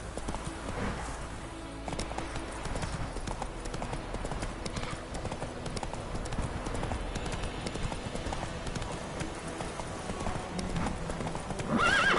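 Horse hooves clip-clop at a steady gallop in The Witcher 3: Wild Hunt, with a whinny and game ambience, loud and continuous throughout.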